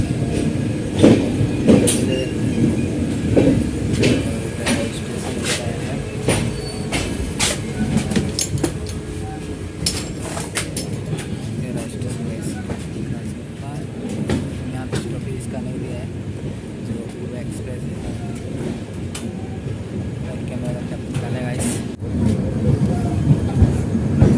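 The Poorva Express runs through Ghaziabad station without stopping, heard from on board as a steady rumble with clattering wheels and occasional sharp knocks, with some muffled background voices.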